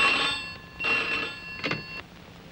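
A telephone rings in two trilling bursts, followed by a shorter partial ring, fairly clear against a quiet background.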